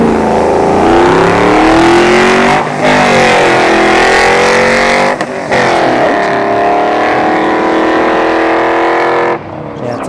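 V6 S197 Mustang drag car at a dragstrip accelerating hard, a loud close engine climbing through the gears with brief drops at each shift before the revs rise again.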